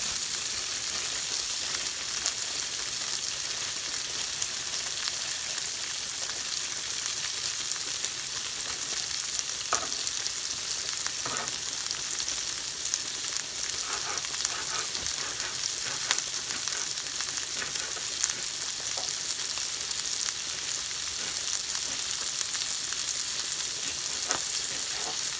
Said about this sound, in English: I'm just going to fry the peppers and half of the coriander